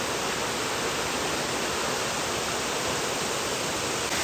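A forest waterfall pours steadily, its dense, even rush filling the scene without pause; no voices are heard.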